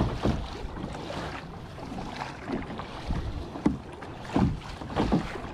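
A kayak being paddled through rip current surf, with irregular splashing paddle strokes and water sloshing over steady wind noise, close to the microphone.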